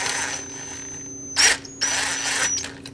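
A power tool whirs in short high-pitched bursts while working on a Yamaha YZ250F carburetor during a rebuild, with two loud pulses separated by a brief gap.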